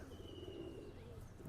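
Pigeons coo softly in a low, steady murmur, a KTM-breed male and a Kanchwala-breed female, with a faint high tone running through the background.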